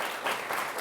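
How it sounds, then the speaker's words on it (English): Audience applause for a panel at the close of a discussion, a brief steady patter of many hands with no voices on top. "A round of applause for our panelists."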